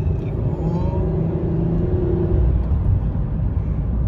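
A 2004 Pontiac Grand Prix GT's engine drones steadily while driving, a loud continuous low rumble with a mild whir and no speech.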